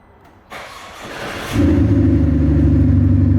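A Mercedes A200 AMG fitted with a sound booster starts up nearby: a brief crank, then the engine catches and settles into a steady, droning idle with no talking.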